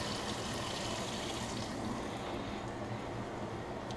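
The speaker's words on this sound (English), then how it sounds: "Rinse them off, get that river juice off of them." Freshly caught river trout get rinsed under a steady, quiet rush of water, splashing softly and evenly without a break.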